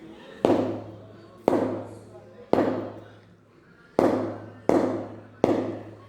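A cricket ball strikes a wooden bat six times in sharp, solid cracks spaced one to two seconds apart, each one close and loud with a short ringing decay.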